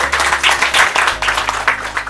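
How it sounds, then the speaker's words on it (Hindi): Group applause breaks out at a meditation gathering, with steady, moderately loud clapping over a low, constant hum. "सबके लिए ताली हो जाए"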